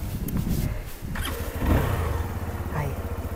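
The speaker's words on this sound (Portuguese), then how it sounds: "Primeiro vou ligar a moto." Motorcycle engine being started, a short cranking burst followed by the engine catching and idling, heard under a nearby voice talking.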